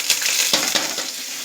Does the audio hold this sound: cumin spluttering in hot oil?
yes